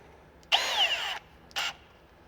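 A power drill drilling a pilot hole whirs for under a second, its pitch winding down as it stops, then gives one more short burst close by.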